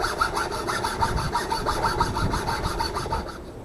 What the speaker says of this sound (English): I'm going to do it the hacksaw method